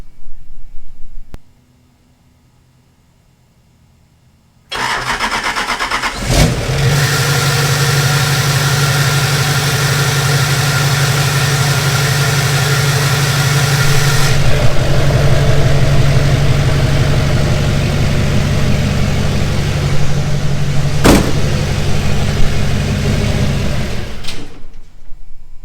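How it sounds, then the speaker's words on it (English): A Kodiak 4WD truck's engine cranks and fires after a brief silence, then settles into a loud, steady idle with a deep rumble, rising slightly in intensity midway before a sharp knock near the end. "Let's go ahead and fire it up."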